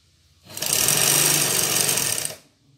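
A sewing machine stitches the side seam of a shalwar in a single continuous run of about two seconds, close and steady, starting and stopping cleanly with no voices.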